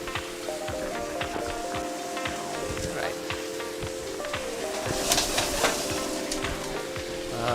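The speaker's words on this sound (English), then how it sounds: "So here's our ground mince going back into the wok." Ground mince sizzles and crackles in a hot wok for Thai drunken noodles (pad kee mao), a steady frying hiss with stirring clatters, while a voice talks over it.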